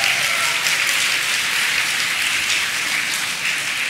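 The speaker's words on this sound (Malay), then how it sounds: "Tuan-tuan dan puan-puan, satu tepukan untuk pasukan Wilayah Persekutuan Kuala Lumpur." Applause from an audience at a national secondary-school choir championship in 2008, a dense, steady wash of clapping that holds at an even, loud level throughout with no voices over it.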